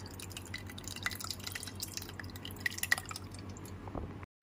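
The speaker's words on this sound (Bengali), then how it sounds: "ছানাটা ছেঁকে নেওয়ার জন্য একটা ছাকনি ব্যবহার করছি তার উপরে দিয়ে দিচ্ছি একটা পাতলা সুতির সাদা কাপড় এবারে ছানাটা ছেঁকে নিচ্ছি" Whey from fresh chhana draining through a thin white cotton cloth over a strainer: faint, close, irregular drips and trickles over a low steady hum, ending abruptly.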